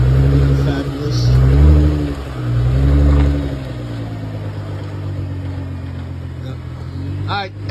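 A Nissan R35 GT-R engine runs close by with a low, steady drone, swelling twice in the first few seconds before settling into a constant hum, while people talk over it.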